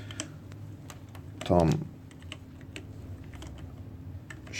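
Typing on a computer keyboard, a run of quick, light key clicks near the mic, with someone speaking briefly in the middle.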